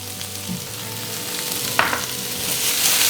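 Chopped onion and capsicum frying in a pan for restaurant-style chilli chicken, giving a continuous close sizzle with a brief clatter of stirring partway through.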